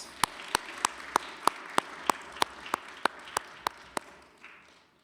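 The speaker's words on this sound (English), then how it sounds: "a round of applause." A single person claps slowly and steadily at a middle school chapel gathering, about a dozen evenly spaced sharp claps in a quiet room, fading out at the end.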